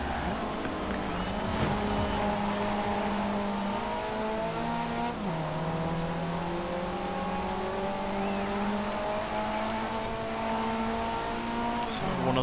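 A high-performance car engine in Forza Horizon 4 drones steadily throughout, its pitch rising and falling through gear changes, with a faint voice mixed underneath.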